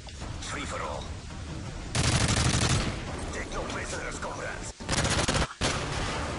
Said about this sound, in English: Just shoot some guns or something.